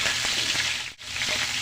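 Garlic and onion sauté in a hot pan, giving a steady, close sizzling hiss with a brief dip in the middle.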